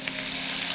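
Sausage browning in a pan with fried cabbage nearby, a loud, close, continuous sizzle with faint crackles, steady for under a second and free of speech.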